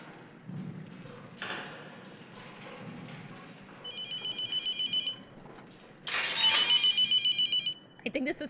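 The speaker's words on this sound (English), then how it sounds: "I'm just gonna answer the phone because it's really loud." A telephone rings in The Mortuary Assistant horror game, two bursts of rapid trilling electronic ringing, the second louder, among soft thumps and quiet room noise.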